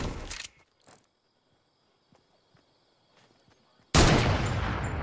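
Gunfire in the video game Fortnite: a sharp burst at the start, a few faint shots in between, then a sustained loud barrage at the end, with no talk.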